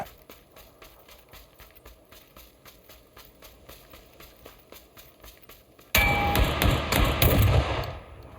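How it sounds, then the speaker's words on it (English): Auto shotgun firing in a video game: a rapid, even train of faint metallic shots ticks along for several seconds, then gives way to a louder, dense burst of noisy blasts close by. "An auto shotgun may not be the best for this range."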